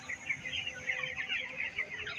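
Broiler chickens on a poultry farm cluck and chatter continuously, a dense flock of overlapping calls at moderate loudness with no talking.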